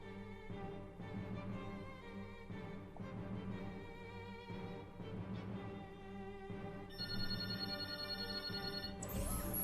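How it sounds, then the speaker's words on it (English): A telephone rings repeatedly against a dense, steady background of music, with a brighter, louder ringing tone near the end. "Oh, the phone."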